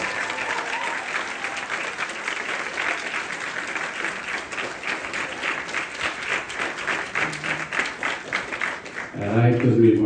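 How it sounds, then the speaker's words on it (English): Sustained loud audience applause fills a gathering at a yagna ceremony, dense clapping from many hands continuing steadily before a voice or music cuts in at the end. "And he deserves a resounding round of applause."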